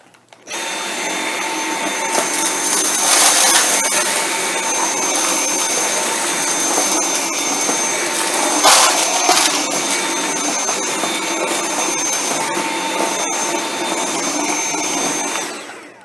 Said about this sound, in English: So we're going to do the V7 in low power mode with a direct drive cleaner head.